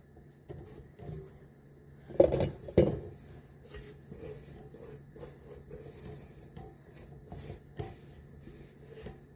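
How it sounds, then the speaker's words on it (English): Hands scrape pie dough from a mixing bowl, giving soft rubbing and scuffing sounds with a couple of louder thumps early on, quiet and close with no talking. "Use my hands to scrape the bowl"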